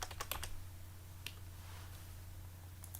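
Quick, faint clicks of fingers typing a folder name on a computer keyboard, a short burst at the start, then a few scattered taps over a low steady hum.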